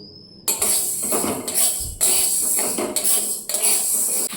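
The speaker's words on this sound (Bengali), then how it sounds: "গোটা সেদ্ধ হবে তার জন্য এই যে কালো কলাইটা ভেজে নিচ্ছি" Black lentils dry-roasting in a pan for gota sedho on Saraswati Puja day, heard as close, repeated scraping and rattling bursts from a spatula every second or so.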